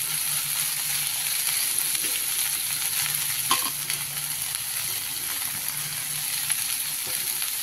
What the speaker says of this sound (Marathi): आता आपण याच्यामध्ये भाजी टाकून घेऊ राजगिऱ्याची, चिरून घेतलेली आहे आपण बारीक चांगली